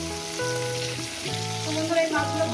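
Rui fish, a local carp, sizzles steadily in hot oil in a pan, a continuous close frying hiss with soft shifting crackle, set against a background music bed with no talk.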